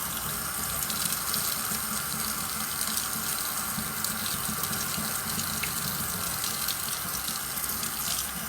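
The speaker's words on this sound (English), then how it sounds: "I wash them." Basil leaves are washed under a running kitchen tap, a steady, close gushing of water splashing into a sink throughout with no talk.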